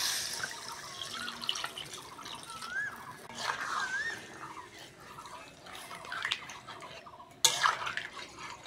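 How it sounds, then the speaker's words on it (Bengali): Water is poured into a pan of matar chicken masala curry, making wet splashing and dripping over a simmering hiss. A pot clinks now and then, with a sharper clatter near the end. "এবার জল দিয়ে দেবো"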